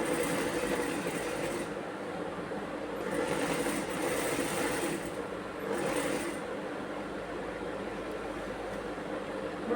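A domestic sewing machine stitches the folded sleeve edge of a churidar top, its motor humming in a steady, close, continuous whir with slight rises in speed and no voices.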